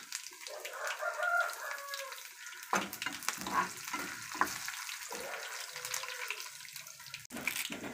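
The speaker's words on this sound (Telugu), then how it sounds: "కరివేపాకు, ఉల్లిపాయలు బాగా వేగాలండి." Onions and curry leaves frying in a pan crackle and spit, with bursts of sizzling and scraping stirs rising and falling, fairly quiet overall and without speech.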